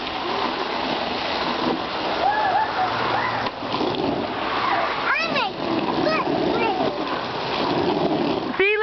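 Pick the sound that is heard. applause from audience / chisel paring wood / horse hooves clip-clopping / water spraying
water spraying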